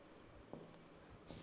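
A marker squeaking briefly across a board as a colored note is written during a class lesson, faint and close, with short strokes and a brighter scratch at the end.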